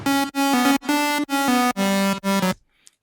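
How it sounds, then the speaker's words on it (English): Electronic dance music synth melody layer built from a saw and square wave tone, bright buzzy staccato notes in a short rhythmic phrase, loud and alone, ending abruptly. "It's a saw slash a square wave kind of thing."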